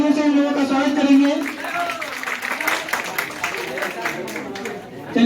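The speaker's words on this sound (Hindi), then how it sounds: "जोरदार तालियों से इन लोगों का स्वागत करेंगे" A crowd of participants at a school World Earth Day poster contest event applauds steadily through the clip while a voice talks over the clapping.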